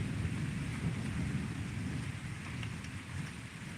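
Night thunderstorm over Salerno, with steady heavy rain hissing and a continuous low rumble of thunder underneath, a dense, even wash of sound throughout, no voices.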